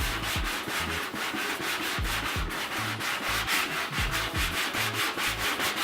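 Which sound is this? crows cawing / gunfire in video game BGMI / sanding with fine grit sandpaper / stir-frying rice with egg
sanding with fine grit sandpaper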